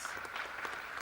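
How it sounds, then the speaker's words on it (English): Audience applause for a congressman at a public event, a steady wash of clapping that holds at a moderate, even level throughout the short stretch, with no voices rising above it. "Let's give the congressman a real round of applause"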